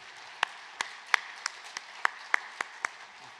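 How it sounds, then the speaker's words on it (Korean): Sparse, faint claps from a church congregation at a national men's mission gathering, nine or so separate hand claps spaced about evenly over a few seconds against quiet room tone. "우리에게 큰 도전을 주신 목사님께 큰 감사의 박수를 드리도록 하겠습니다"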